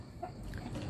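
A young hen kept as a candidate breeder gives a couple of short, soft clucks, close by, in a brief quiet moment.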